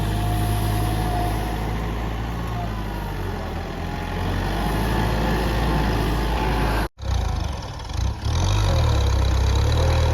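A Kubota M6240SU tractor diesel engine running steadily and close in second gear while working soil, a constant low rumble with one brief sharp dropout before it resumes.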